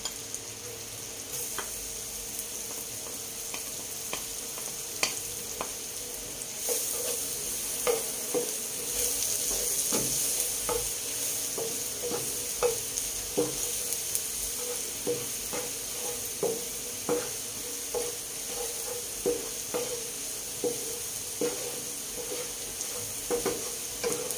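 Garlic frying in butter in a pan gives a continuous close sizzle, with light ticks and taps from stirring scattered throughout. No one speaks.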